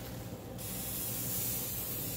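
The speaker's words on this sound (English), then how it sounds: "We put in some cooking spray." Cooking spray hisses steadily into a meatloaf pan, a continuous close spray that brightens and intensifies partway through and keeps going alone without talk.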